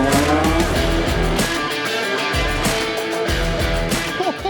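A fully built BMW E46 M3 race car with a naturally aspirated engine, roll cage, fin and diffuser, roaring loudly and continuously with rising and falling revs and gear changes, up close and with no talk.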